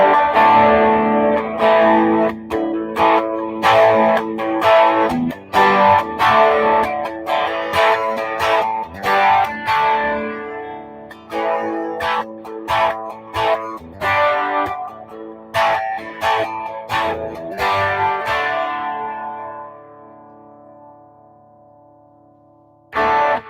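PRS Miras electric guitar through a high-gain distortion pedal, played in chugging, chopped chords and sustained riffs, loud and close, with ringing notes that sometimes decay into brief silences.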